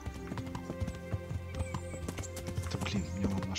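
Hooves of a horse clatter in a quick, uneven rhythm in the medieval game Kingdom Come Deliverance, close and moderately loud, with a low snort or whinny near the end and no speech.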